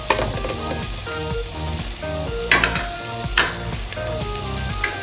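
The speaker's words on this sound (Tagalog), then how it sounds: "Kaya lutuin lang po natin ng kaunti yung sibuyas at bawang." Onion and garlic sautéing in a pan, stirred with close, continuous sizzling broken by a few sharper scrapes and clacks of the utensil, with background music playing throughout and nobody talking.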